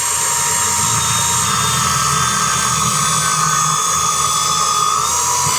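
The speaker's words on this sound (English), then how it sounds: "I got my handy dandy little bandsaw here, so I can just cut it right off" A small bandsaw runs with a loud, steady high-pitched whine and hum, cutting continuously at close range with no talking, while working on a 1972 Glasspar boat with a 1979 Evinrude outboard.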